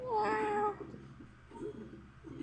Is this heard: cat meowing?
yes